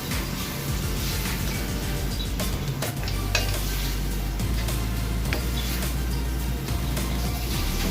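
Beef palabok sauce with oyster sauce, soy sauce, salt and pepper is stirred in a pan, with constant sizzling and scraping of a utensil against the pan, a few clinks and some low background hum.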